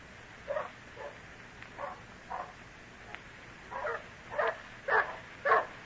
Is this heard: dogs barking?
yes